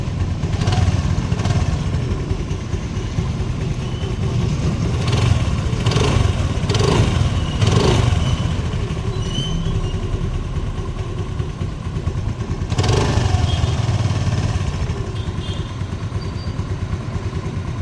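A used Honda Activa scooter runs with its engine ticking over steadily, with a few brief throttle blips and light clatter, close and fairly loud, no talking.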